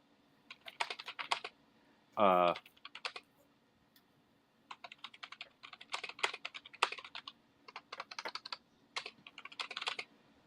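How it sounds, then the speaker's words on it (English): Quick bursts of keyboard typing come in irregular clusters, close and crisp, with a brief whirring squeak partway through and quiet pauses between. "You can hear me typing, right?"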